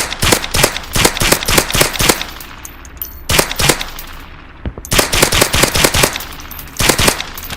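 Gunfire in the VR shooting game H3VR: rapid bursts of loud sharp shots in quick strings, with short pauses between volleys.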